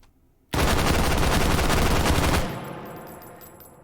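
A single loud suppressed shot from an H51 rifle fitted with a stock and suppressor in the H3VR video game, a dense burst lasting about two seconds that ends abruptly, followed by a fading tail with faint high metallic ringing.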